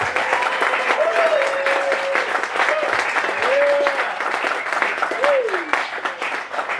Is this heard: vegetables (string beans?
no